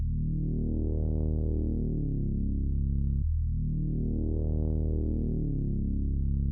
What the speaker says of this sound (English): Then last but not least, I went to Trillion and got this bass, this sub bass, and just followed the root notes with it